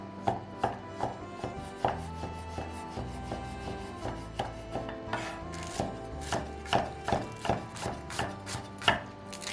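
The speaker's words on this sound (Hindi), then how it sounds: "अभी हमने पूरा वेजिटेबल काट दिया" A knife chops vegetables on a board for a simple Himalayan village meal with handmade pasta, giving a long run of crisp, irregular close-up strikes, some louder than others, with no voices.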